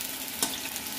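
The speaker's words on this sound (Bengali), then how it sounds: "আমি এই যে আলু ভাজছি" Potatoes fry in a pan with a dense, even sizzle and a brief stirring scrape partway through, close up and steady, with no talking.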